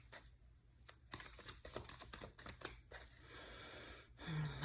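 Tarot cards being shuffled close up, a series of quick riffling and tapping bursts, fairly quiet, with a brief pause before a final longer riffle.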